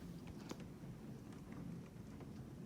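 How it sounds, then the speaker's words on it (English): Steady rain falls outdoors during Hurricane Dorian, a continuous soft wash of drops with occasional sharper patters close by, moderately faint and without voices. "It's still raining outside. You can probably hear it."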